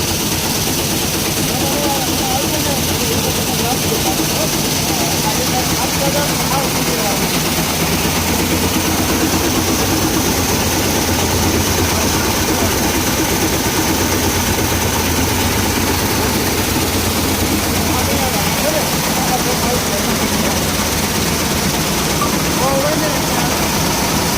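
A tractor-driven wheat-cleaning thresher runs steadily, giving a loud, continuous mechanical drone with deep engine rumble and a rattling whir throughout.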